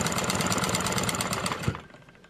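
A sewing machine runs steadily, stitching a plain suit's sleeve, a continuous close mechanical whir with rapid needle rhythm that cuts off near the end after a short thump.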